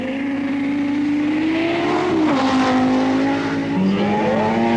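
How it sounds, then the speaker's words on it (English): A Mazda rally car in the 1985 World Rally Championship is driven hard, its engine revving loud and close with pitch climbing and dipping through gear changes, with brief tire noise and no voices. "Alport is still setting up good times, throwing the Mazda round with abandon"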